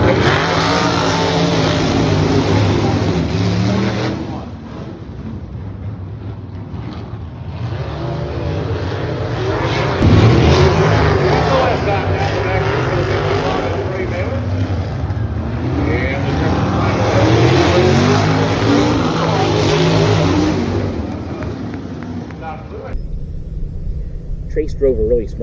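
Sprint cars race on a Highland Speedway dirt track, a continuous loud roar of engines rising and falling as the pack sweeps through a turn, with a commentator talking over it throughout.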